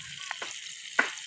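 Fish fries in oil in a pan over a leaf-fuelled fire in a village clay stove, giving a quiet sizzle broken by a few sharp crackles and pops.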